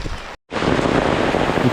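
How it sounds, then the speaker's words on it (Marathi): Heavy afternoon rain pours down steadily over a village in a dense, continuous hiss, broken by a brief moment of total silence before the downpour resumes at full strength. "पावसाने दुपारनंतर थैमान माजवलं आहे भरपूर पाऊस ते दिवसभर काही थांबला नाही आहे"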